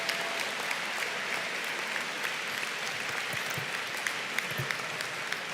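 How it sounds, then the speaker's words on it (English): A law school commencement crowd applauds steadily, a dense wash of clapping with a few louder individual claps and faint cheers standing out. "Wow, you got a lot of applause there."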